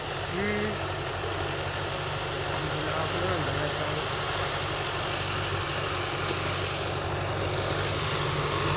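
A steady tractor engine idles throughout with a low, continuous rumble during wheat sowing, while people talk faintly in the background.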